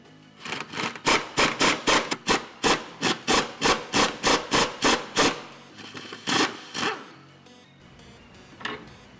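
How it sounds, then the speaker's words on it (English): Rusty factory sway bar end links on a Nissan S13 240SX being worked loose with two wrenches: a fast run of about twenty loud, evenly spaced rasping clicks, then a few slower scrapes and a faint final tick, close up with no talk. "So we're going to start off by unhooking these factory end links."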